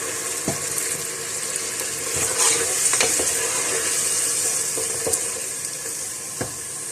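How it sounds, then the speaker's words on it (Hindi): Beef paya frying with ginger and garlic in a pan, a steady sizzle with repeated scraping stirs and light clinks, close and continuous with no talking. "थोड़ी सी देर मैंने अदरक लहसुन के साथ पाया को भूना है।"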